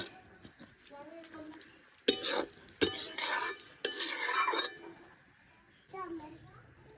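A spatula scrapes and stirs spring onion curry in a pan, several loud rough swirling bursts with metallic clinks, while a person talks softly before and after.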